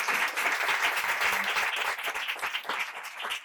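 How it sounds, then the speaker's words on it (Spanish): Audience applause after a talk on violence against women under Franco, dense steady clapping from a full room, loud and continuous throughout with no voices over it. "un aplauso"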